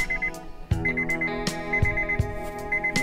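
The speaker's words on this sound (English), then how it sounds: "Alarm off." An alarm clock goes off with a repeating electronic beeping melody, loud and close, broken by a few sharp clicks and knocks and heard with no voices.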